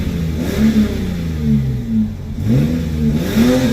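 Lexus GS300 with a 2JZ engine and muffler delete revs up and down several times, a loud, close, droning exhaust rising and falling in repeated swells.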